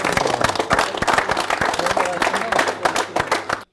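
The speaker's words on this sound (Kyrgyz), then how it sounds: "Кол чабуулар." Audience applause at a televised quiz show, a dense, steady patter of many hands clapping close by for several seconds before it stops abruptly.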